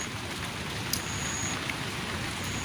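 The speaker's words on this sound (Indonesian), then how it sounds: "Di sini masih hujan teman-teman" Steady rain pouring down in a swampy jungle, a dense continuous hiss of drops on surfaces with no voices, fairly close and even throughout.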